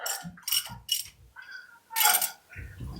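A jack lowering a Toyota Land Cruiser FJ60 during a suspension swap, giving close metallic clicks, ratcheting clanks and creaks in short separate bursts with gaps between.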